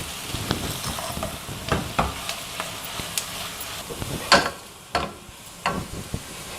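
Cabbage and capsicum frying in a pan, with a steady sizzle broken by several sharp stirring scrapes and clatters, close and fairly loud, no voices.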